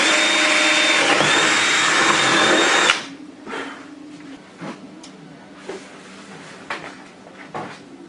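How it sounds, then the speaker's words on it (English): A power drill bores out a marked spot on a car body kit, a loud, steady high whine for about three seconds that cuts off abruptly, followed by quieter shop clatter and light knocks. "We're going to drill it out really quick right now."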